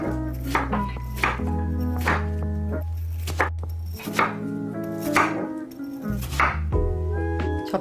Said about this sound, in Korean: 이렇게 3등분해 주세요. 먹기 좋은 두께로 잘라주세요.